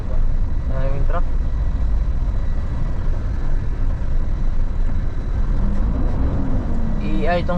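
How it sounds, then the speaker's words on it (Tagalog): Trucks and other vehicles grind up the steep Pagbilao zigzag mountain road, a steady loud engine and road rumble throughout, with brief voices near the start and end. "Maraming truck na dito sa taas mga bay."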